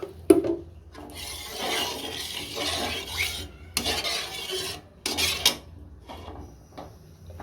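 Water is poured into a pan of fried lentils while cooking drumstick dal, heard as close, uneven gushes and splashes in several bursts with short quiet gaps and clinks of the pan between them.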